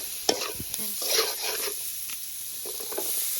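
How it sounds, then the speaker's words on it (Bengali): Koi fish and spices being stir-fried in a wok over a clay village stove, with a soft sizzle under scraping spatula strokes and occasional clinks, close and fairly quiet. "কচুরলতি রান্না করার জন্য কই মাছ আর মশলাগুলোকে কষিয়ে নিচ্ছে"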